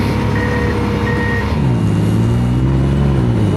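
A tracked buggy's engine roars loud and close at full throttle in snow, the drone dropping in pitch partway through as the tracks bog down, with a couple of short tonal beeps early on.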